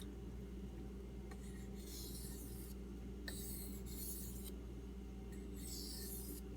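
A knife blade strokes across a Suehiro whetstone in several soft, scraping passes, rising and falling in rhythm against a steady low background hum.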